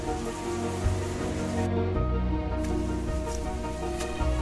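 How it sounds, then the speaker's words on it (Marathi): Steady rain falls in the Sahyadri hills near Bhandardara, a dense, even hiss with scattered drops. It stays constant throughout and nobody speaks. "धुकं आणि पाऊस यावरून तुम्ही अंदाज लावू शकता की सह्याद्रीमध्ये किती पाऊस पडत असेल."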